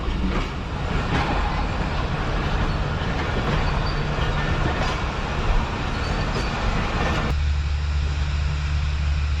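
A Pakistan Railways train at a platform in Lahore rumbles steadily at close range, its wheels clattering without pause, and there is no talk over it.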